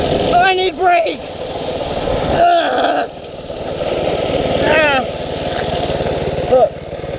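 A mini bike's small engine drones steadily and close while being ridden, its pitch shifting with throttle and dipping around the three-second mark, under shouted talk and exclamations.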